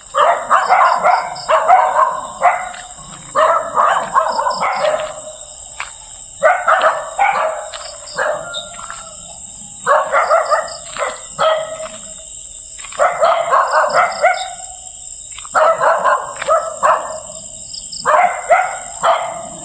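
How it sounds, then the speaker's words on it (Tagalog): A dog barks in repeated bursts of several sharp barks each, fairly close, with a steady high-pitched insect drone in the background. "May aso."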